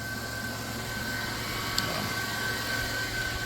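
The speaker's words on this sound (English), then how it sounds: "lights are out, and it's idling freaking perfect" 2000 Chrysler Grand Voyager SE engine idling smoothly after a thermostat and battery repair, a steady low hum with a faint whine, constant and close, with no talk.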